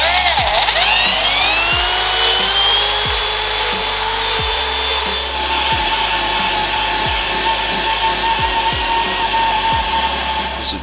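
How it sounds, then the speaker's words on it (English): A high-speed power drill whines steadily while reaming out a nail puncture hole in a tire on a Nissan GTR, loud and continuous with a rising pitch and rhythmic ticking beneath it. "So now he's gonna drill it out to make it a little bit smoother"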